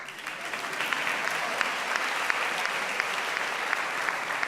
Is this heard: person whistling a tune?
no